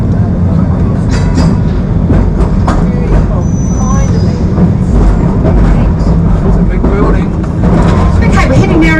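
Christchurch tram rumbling along with a loud, continuous low roar and rattling throughout, a faint squeal around the middle, heard close up from on board.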